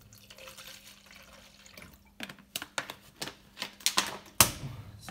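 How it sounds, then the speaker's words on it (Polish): Water is poured into a supplement shaker holding an apple and watermelon flavoured mix in a home gym, with a run of irregular splashy clatters and knocks building to a sharp burst near the end. "Zalewamy sobie troszkę wody."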